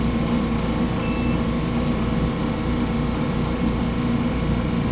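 An Aeon Mira 9 100-watt laser cutter powers on while an air compressor already runs nearby, giving a loud, steady mechanical hum with a couple of brief electronic beeps early on.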